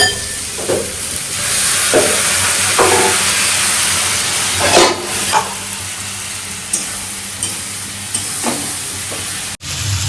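Fish curry frying in a pan with ground spice paste and vegetables like potato and cauliflower, a loud continuous sizzle and hiss with bursts of crackle as ingredients go in and are stirred.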